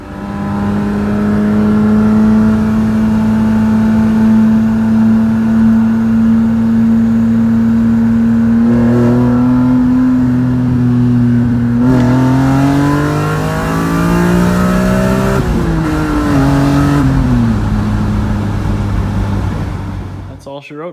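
A BMW E30 M3 engine idles steadily, then revs up and falls back in several rising and dropping sweeps, loud and close, with a brief fade at the end.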